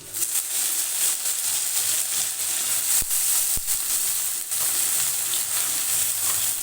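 Curry leaves dropped into hot oil set off a steady close sizzle and hiss, with a couple of sharp clicks partway through, lasting throughout without talk.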